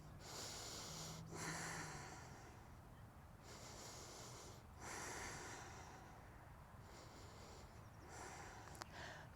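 Slow, rhythmic breathing held in a Warrior Two yoga posture: soft, airy breaths recur every couple of seconds, quiet and close, with no talking.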